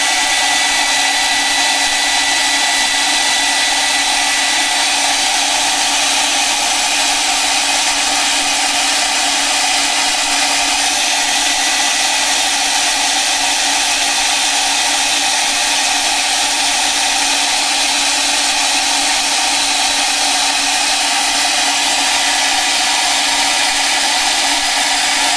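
A hair dryer blows steadily at close range to dry paint on an art journal page, a loud, constant whirring whoosh that holds unchanged and without talk for the whole stretch.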